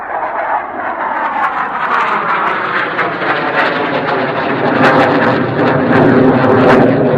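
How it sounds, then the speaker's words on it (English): A Saab Viggen jet roars overhead during an air display, a loud continuous engine rumble with a slowly shifting pitch that swells toward the end as it passes. "can you identify the aircraft that you can hear flying over the top? Viggen, clear for takeoff and display"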